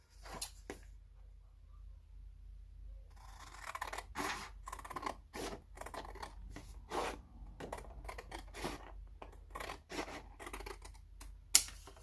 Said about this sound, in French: on va venir couper en diagonale